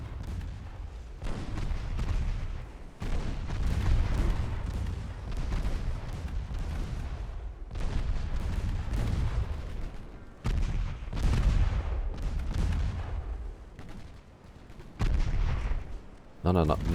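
Naval guns fire repeatedly at enemy ships in the warship game Ultimate Admiral Dreadnoughts, with heavy booming salvos arriving in uneven bursts, rumbling tails between shots and brief quiet gaps, all at close, loud range.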